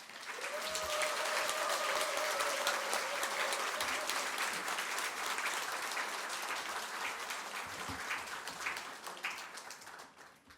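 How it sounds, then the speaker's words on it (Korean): A church congregation applauds to welcome a pastor onto the stage, a steady, fairly distant wash of many hands clapping that holds for about ten seconds before tapering off. "큰 박수로 환영해 드리면 좋겠습니다."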